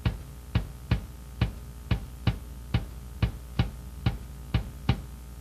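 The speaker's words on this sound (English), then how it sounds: "First bass drum. 1, 2, 3, 4." Four-on-the-floor bass drum hits from a drum kit, eleven evenly spaced deep thumps in a steady pulse, played alone with no other instruments.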